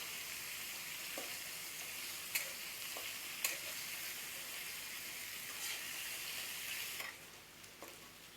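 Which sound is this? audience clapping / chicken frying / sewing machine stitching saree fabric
chicken frying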